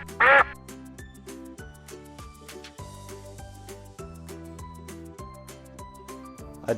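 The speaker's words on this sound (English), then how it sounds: "A duck. What sound does the duck make?" A single short duck quack rings out near the start over a steady background of music, part of a toddlers' farm animal sounds lesson.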